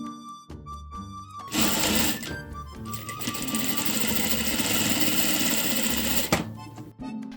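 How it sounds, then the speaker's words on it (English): A sewing machine runs in one sustained, even whir for several seconds while stitching a homemade fabric face mask, with brief handling clicks before and after. "Sew it as it is."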